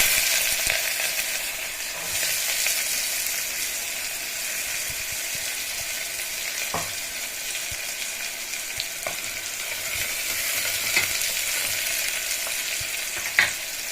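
Onions frying in hot oil in a pan for chicken curry, a loud, continuous close sizzle with occasional sharp crackles and stirring scrapes, no one speaking.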